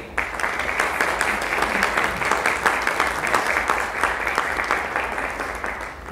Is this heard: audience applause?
yes